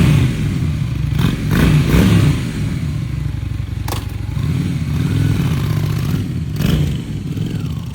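A classic Honda Shadow motorcycle engine runs loud and close, with a rough idle broken by several blips of the throttle and a few sharp clanks and scrapes.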